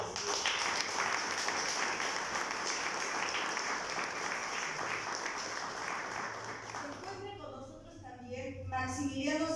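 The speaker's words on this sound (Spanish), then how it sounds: "Un aplauso para ella." Applause for someone speaker with a doctorate in neural sciences from the Universidad Veracruzana, at a humanism book presentation in Mexico: a steady broadband patter of many hands from the start that thins toward the end.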